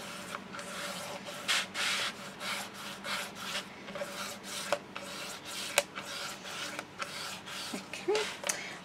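A bone folder or burnishing tool rubs firmly across paper panels on a 6x6 baby mini album, giving repeated short scraping strokes close up, each a brief rasp with small pauses between, no voices.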